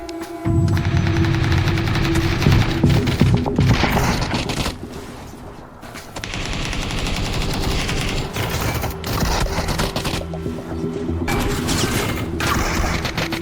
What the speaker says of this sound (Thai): ได้ใช้ปืนลูกซอง DBS ยิงจนตาย